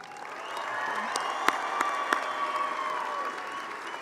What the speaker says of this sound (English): Please join me in a round of applause for Victoria Garcia and Betsaida Chavez